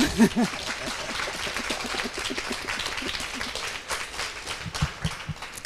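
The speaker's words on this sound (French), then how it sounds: "je crois qu'on peut encore l'applaudir" An audience at a Bon Marché talk applauds Paris Opera étoile Bleuenn Battistoni with moderate, steady clapping that swells briefly at the start and trails off near the end.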